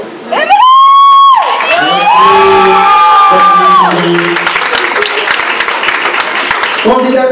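Audience at a Miss Prestige Réunion pageant cheers and applauds loudly, a dense roar of clapping and shouts following a rising siren-like horn blast and a voice over a PA.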